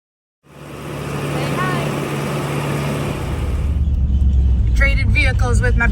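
Diesel tractor driving on a road: a steady low engine drone starts abruptly and runs on, moderately loud, with a voice talking over it toward the end.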